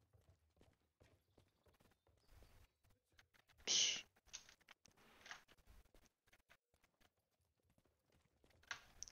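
Faint horse hoof clip-clops in a medieval-era video game patter irregularly through a quiet stretch, with a brief louder burst and scattered clicks around them.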